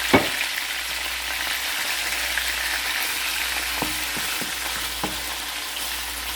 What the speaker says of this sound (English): So we will try to fry this until such time slightly golden brown